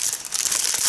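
A brief, close rustle of an empty tea packet being crinkled and crushed in the hand.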